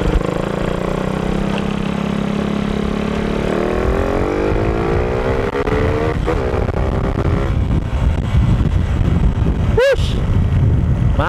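A 125 motorcycle engine with a 28mm round carburetor revving up through rising pitch from a steady drone, loud and close, with a voice talking over it partway.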